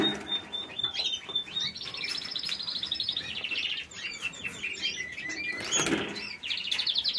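A small pet bird perched on a stick chirps and tweets repeatedly in quick, bright bursts, close and clear, with faint handling noises and no talk.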